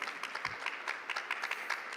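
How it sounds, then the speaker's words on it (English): Faint, distant applause follows a presenter's talk at an online programming-contest education session, a soft, even patter of a few clapping hands with no talk over it. "let's first of all give a round of applause for Miguel for the presentation"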